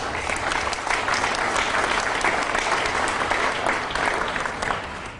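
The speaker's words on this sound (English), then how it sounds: "if you'd help me with a round of applause there too." A crowd at an outdoor ribbon-cutting ceremony for Levitt at the Falls breaks into a sustained round of applause, dense and steady clapping from many hands for about five seconds, fading slightly at the end.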